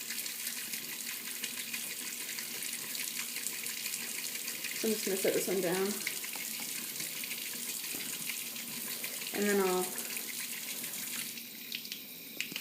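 Tap water runs steadily into a sink while makeup brushes are washed, a constant hiss and splash with someone talking briefly over it twice.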